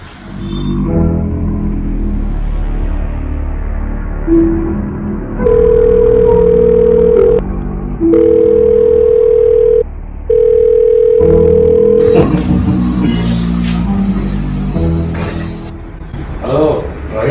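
A mobile phone places a call, giving three long, steady ringback tones in a row with short gaps between them, loud and close, while muffled background sounds come before and after.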